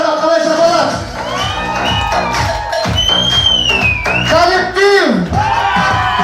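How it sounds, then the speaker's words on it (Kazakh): Audience at a Kazakh wedding send-off celebration clapping and cheering for the bride's maternal relatives, a loud sustained wash of applause and whoops mixed with music and voices over a PA. "Нағашыларға қалай шапалақ?"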